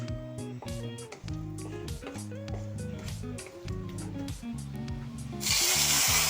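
Bay leaves, dried chillies and whole spices hit hot oil near the end, bursting into a loud, hissing sizzle that follows several seconds of background music.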